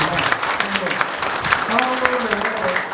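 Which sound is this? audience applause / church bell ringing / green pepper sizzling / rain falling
audience applause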